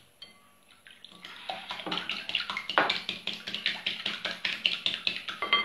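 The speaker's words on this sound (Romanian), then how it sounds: "Și adăugăm și puțină apă." Water poured from a container into a bowl of pancake batter in a home kitchen, a steady splashing trickle with repeated soft pulses, close and fairly clear, no talking.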